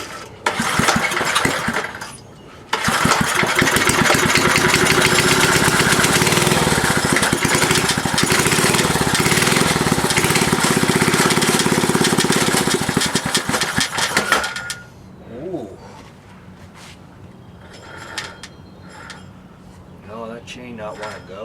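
A mini bike's small gas engine, its carburetor primed with fuel, sputters briefly, then roars loudly and steadily for about twelve seconds before cutting out, leaving faint clanks and handling noises.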